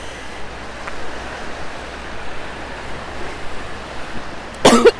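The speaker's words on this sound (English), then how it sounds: "the red tide makes us cough" A single sharp cough from red tide breaks out near the end, close and loud, over a steady wash of wind and ocean surf on a beach.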